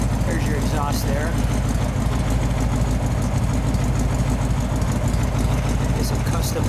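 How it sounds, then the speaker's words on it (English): A 1932 Ford four-door highboy hot rod sedan idles with a steady, low rumbling exhaust note close by at a car show, while people talk over it. "Look at the exhaust note. You hear that exhaust out there."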